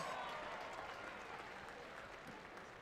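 Steady applause from a distant, faint crowd at a campdraft, a continuous wash of clapping that holds evenly and slowly fades a little, with no distinct voices.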